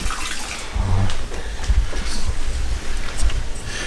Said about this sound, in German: wollte ich eben Wasser aus der Kanäle abziehen, damit wir das hier so weit trocken haben